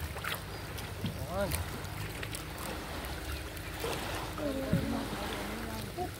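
Small wooden outrigger boats (bangka) on coastal water in Camarines Sur, being brought in ahead of a typhoon, with water sloshing and hull knocks under continuous talk and shouting from nearby people.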